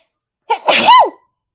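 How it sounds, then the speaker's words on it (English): A single sharp sneeze, a quick intake of breath followed by an explosive burst, close and loud, then silence. "I'm going to sneeze."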